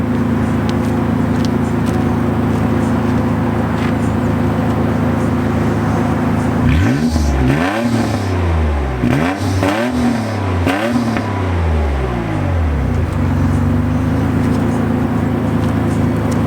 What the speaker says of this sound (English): It's got that throaty kind of exhaust sound to it.